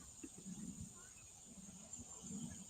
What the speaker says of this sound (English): We hear crickets.